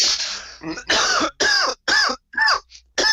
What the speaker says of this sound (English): We're gonna have to ask you to save those coughs for when we're actually recording the show.